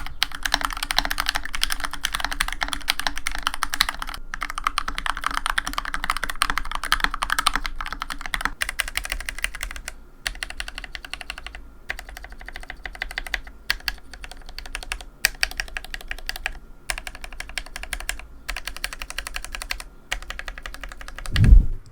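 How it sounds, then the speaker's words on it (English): TKC x C3 Banana Split mechanical keyboard switches typed on steadily, first stock and then lubed, producing dense, close clacking keystrokes that thin into sparser presses with a heavier thunk near the end. "Here's how the banana switches sound stock and lubed"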